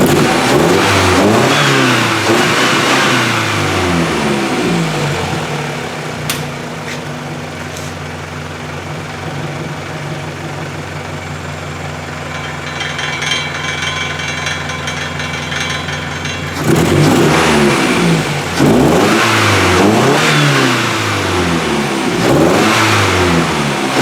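The engine of a 1999 Toyota Camry being built as a demolition derby car runs nearby, revving up and down repeatedly, dropping to a steady idle hum in the middle before climbing again into loud revs.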